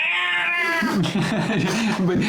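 A cat meows repeatedly in wavering, drawn-out cries, loud and close, over steady background sound.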